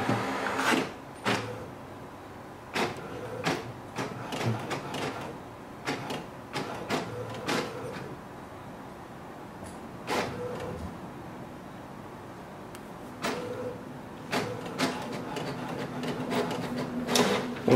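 An HP printer prints its wireless password page, giving repeated mechanical clicks, whirs and paper-feed thumps in an irregular rhythm, close and fairly loud with no talk over it.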